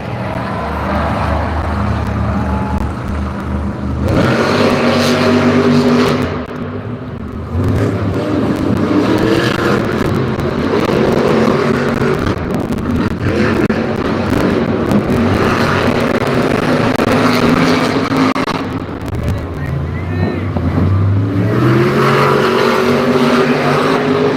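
Monster trucks racing at a Monster Jam event in Pittsburgh, with loud roaring engines revving and surging continuously across a large arena, several bursts of acceleration following one another.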